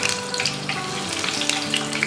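Slit green chillies fry in hot oil for Diwali snacks, giving a dense, continuous sizzle with scattered pops and spits, close up and with no voices.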